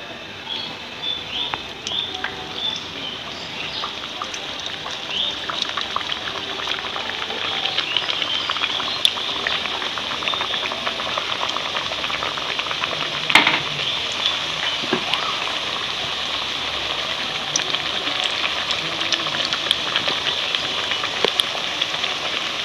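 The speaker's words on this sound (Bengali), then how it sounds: "আমি এই পাপড়িগুলো সব একে ভেজে নেব" Papad frying in hot white oil in a wok make a constant crackling, rain-like sizzle with scattered pops, holding steady at moderate loudness throughout.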